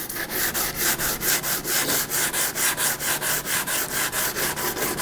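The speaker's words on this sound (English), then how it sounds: "we're just going to come in here and sand that down" Hand sanding of a rough fiberglass part with 80 grit sandpaper, loud and close, in quick regular back-and-forth strokes of about four per second, with no talk over it.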